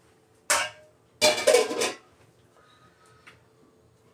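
Lid being set back on a pot: a short metallic clatter followed by a longer rattling scrape as it settles, close and fairly loud, then quiet.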